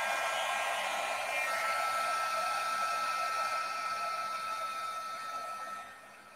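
A heat tool blows hot air to melt embossing powder on a handmade card, giving a loud, steady hair-dryer-like whoosh that fades down as it is switched off at the end.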